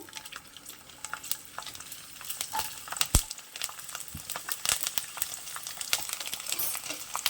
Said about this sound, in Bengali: তেল গরম হয়ে গেছে এবার আমি দিয়ে দেবো রসুন